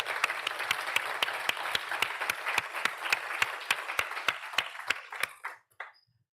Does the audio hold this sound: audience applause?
yes